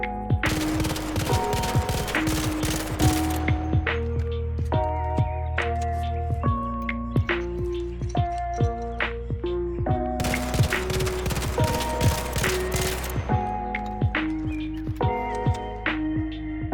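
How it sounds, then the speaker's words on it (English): Arpeggio burst-fire weapon fitted with a compensator firing in Arc Raiders, loud rapid bursts of gunshots under a steady game music backdrop with tonal notes throughout. "These reduce shot dispersion, which is crucial for a burst fire weapon like this"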